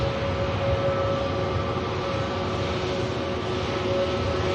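Airbus A321neo jet engines at an airport, a steady faint distant roar with a thin whining tone holding through the few seconds, no voices.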